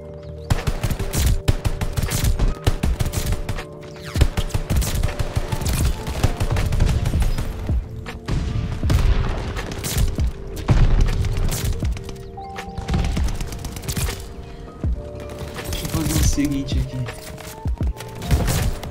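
Rapid bursts of video game gunfire from an unusually broken, overpowered weapon, dense and continuous throughout, mixed with game music and effects while a voice talks over it.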